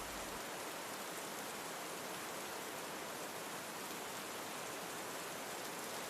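Steady rain falls outside a cabin at night, a constant dense hiss of drops on surfaces that holds evenly for several seconds, soft and enveloping, with no voices.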